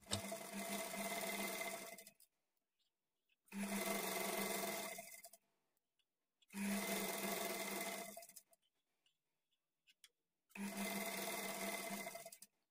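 A sewing machine stitches thread piping onto blouse fabric in four bursts of steady, whirring motor hum, each about two seconds long, separated by short pauses of silence, with no voices.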